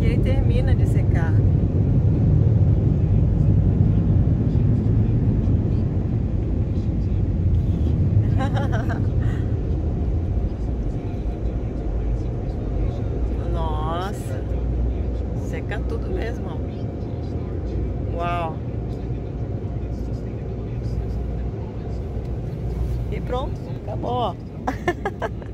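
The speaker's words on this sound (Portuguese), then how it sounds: "Dali sai, acho que o vapor quente pra secar." Hot air from an automatic car wash dryer blasting onto a car, a loud continuous roaring rush that persists throughout, with people talking over it.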